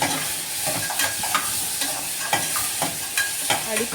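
Turmeric sautéing in a pan for white pumpkin sambar, with a steady sizzle of frying and repeated scraping stirs of a spoon at an irregular rhythm, close and moderately loud.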